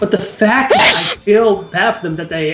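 A single sharp sneeze bursts out mid-conversation among several people chatting on a live gaming talk stream, loud and close, with talk continuing around it.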